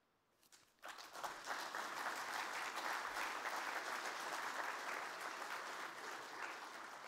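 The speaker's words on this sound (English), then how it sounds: "if you do so by applauding the 2023 board" An audience at an annual general meeting breaks into sustained applause after a short quiet start, with dense clapping that stays steady and fairly loud to the end.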